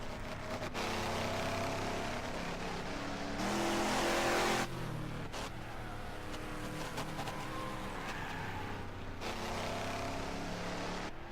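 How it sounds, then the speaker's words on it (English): A damaged race car engine roars steadily and loudly up close during a speedway race, with sputtering, uneven revving that surges and drops, sounding rough and strained. "You can hear the engine trying to cut loose."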